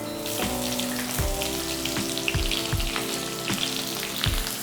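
Two chopped onions sautéing in hot oil in a pan for tomato rice, a steady close sizzle with soft popping and occasional spoon scrapes, no talking.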